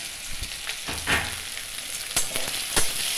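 Grated ginger frying in the pan of a drumstick curry, giving a steady close crackling sizzle broken by a few sharp spoon clicks and stirring scrapes.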